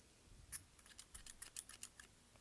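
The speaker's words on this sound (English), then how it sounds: "pull on it to see where it is and pull it through and cut that off" Scissors snip off excess string while making a graduation cap, a quick run of crisp, close cuts and clicks in a quiet room.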